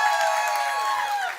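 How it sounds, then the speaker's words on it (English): An audience at a Climate Week panel event applauds and cheers after a Broadway singer's performance, a brief dense wash of clapping with whoops from the crowd. "Give her a huge round of applause."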